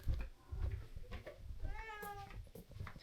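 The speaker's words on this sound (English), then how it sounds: "A very noisy cat. 2 very noisy cats." Two cats aboard a converted boat home give loud, drawn-out meows close by, one rising wail standing out among bumps and room noise.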